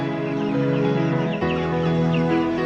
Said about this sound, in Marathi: साडेतीन हजार कोंबड्या आहेत